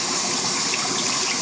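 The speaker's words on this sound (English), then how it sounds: "So I rinse it in really cold water." Cold tap water gushing steadily over a piece of cheese being rinsed at a kitchen sink, a loud, continuous close-up rush.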